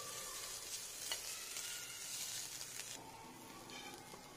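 Onions cook in a pan for sweet corn soup with a soft, steady sizzle and occasional stirring scrapes, fairly quiet and without speech.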